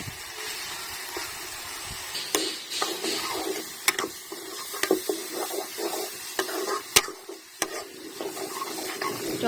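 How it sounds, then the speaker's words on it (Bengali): Chopped tomatoes sizzle in a pan while a spatula scrapes and knocks against the metal, giving irregular clicks over a steady frying hiss that stays close and fairly loud throughout. "টমেটোটা একটু ভাজা ভাজা করে নেব।"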